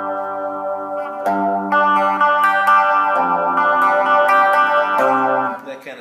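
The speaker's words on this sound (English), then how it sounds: "you can tweak yourself some chorus and some flange, or a little phaser if you want" Electric guitar through a Line 6 Spider IV 15 amp with chorus and flange effects: clean, shimmering sustained chords and single notes played continuously for several seconds, close and fairly loud, with no speech.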